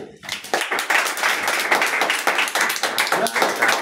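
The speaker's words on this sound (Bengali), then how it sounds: "হাততালি।" Rapid hand clapping from a group, a dense continuous patter of claps with no pauses, fairly close and steady throughout.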